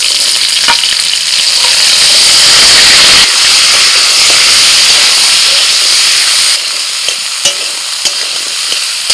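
Potatoes and taro stems fry in hot oil tempered with bay leaf, dried red chilli and panch phoron, giving a loud, steady sizzling hiss with stirring scrapes throughout and no talk.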